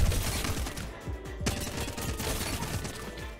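Rapid gunfire from Apex Legends, single-fire shots spammed quickly in a dense, loud burst of overlapping reports with a sharp crack near the middle, no voices.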